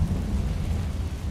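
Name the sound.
Confringo fire-blast spell in video game Hogwarts Legacy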